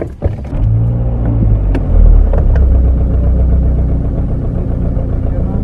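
A car engine runs at a steady low idle throughout a police traffic check in Gdynia, a continuous near rumble with a brief bump partway through.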